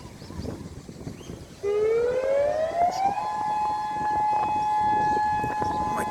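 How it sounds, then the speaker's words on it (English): An air raid siren starts up and winds upward to a sustained steady wail, loud but slightly distant, over a low background rumble. "when the air raid sirens went off"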